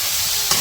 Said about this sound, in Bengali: বেগুন দিয়ে একটা টমেটো দিয়ে দিল সবজিগুলা কষিয়ে তারপরে মাছ দিল